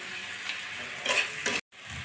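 Taro greens fry in a pan with garlic, dried chilli, onion and five-spice, giving a steady close sizzle with a few stirring scrapes and a brief silent gap near the end, with no voices.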